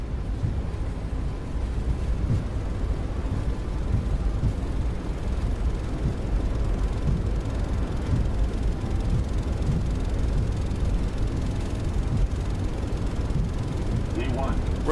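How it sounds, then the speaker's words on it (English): Boeing 757 jet engines at takeoff thrust in a flight simulator produce a steady, loud, low rumbling roar that holds throughout without breaks. "That sets takeoff thrust."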